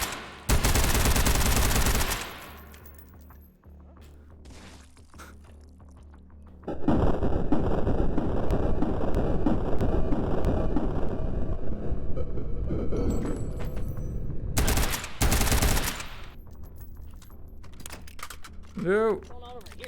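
Automatic gunfire in the VR shooting game H3VR: loud sustained bursts of rapid shots with heavy recoil, separated by brief gaps, with some faint background noise.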